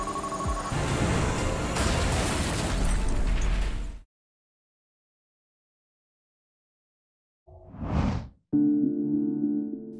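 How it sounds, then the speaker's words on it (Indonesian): A car blown up by a bomb-carrying drone erupts in a loud, sustained blast lasting several seconds, cut to silence, followed by a short whooshing burst and a tonal ringing sound. "salah satu drone berhasil masuk melalui bagian bawah mobil serta langsung meledakkan kendaraan tersebut"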